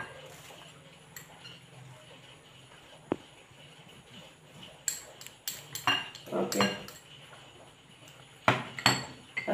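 Spoon clinking and scraping against a bowl while onions are mixed in a home kitchen, a few soft taps early then a cluster of sharper clinks and scrapes toward the end, close and moderately loud.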